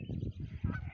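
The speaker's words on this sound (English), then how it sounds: "there's a goose." A goose honks several times in quick, rough succession, faint and somewhat distant outdoors.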